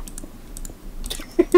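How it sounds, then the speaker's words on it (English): Typing on a computer keyboard during a multiplayer game session, with a few light, scattered key clicks and sharper taps near the end, fairly quiet and close. "you can hear me type"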